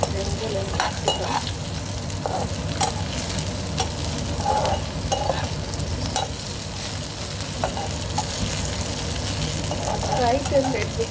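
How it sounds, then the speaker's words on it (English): Brinjal and capsicum frying in hot oil in a home kitchen, a steady sizzle with intermittent stirring scrapes and clicks, close and continuous. "frying the brinjal and capsicum."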